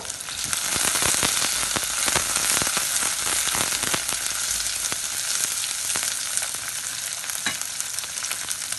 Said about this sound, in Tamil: வெட்டி வச்ச வெங்காயம், கொஞ்சம் வெட்டி வச்ச பச்சை மிளகாய், வெட்டி வச்ச வெள்ளைப்பூடு போட்டு கிண்டி விடுவோம்.